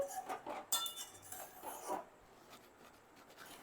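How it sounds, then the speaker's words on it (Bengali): A spoon scraping and stirring a sweet, sour and spicy raw mango pickle with vinegar in a bowl: faint, irregular rasping scrapes and light clinks, quieter toward the end, no voices. "এবার আচারটা ভালো করে আমি একটু মিশিয়ে নিচ্ছি"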